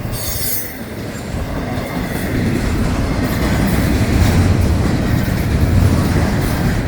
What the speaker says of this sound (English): Maybe it's a mixed train.